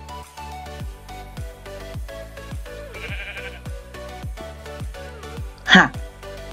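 A single short bleat of a sheep in Minecraft rings out near the end over rhythmic game music with a plucked, bouncing beat.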